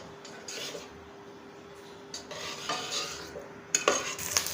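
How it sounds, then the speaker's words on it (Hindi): Onions frying in a pan for keema give a soft, steady sizzle. A spoon scrapes and clinks against the pan now and then, with the sharper stirring knocks coming near the end, all heard close and with no talking. "अब हम प्याज को फ्राई करेंगे।"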